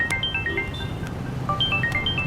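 A phone rings in a quiet room, a repeating electronic ringtone of short bright tones in bursts that sounds close and moderately loud, with no one talking.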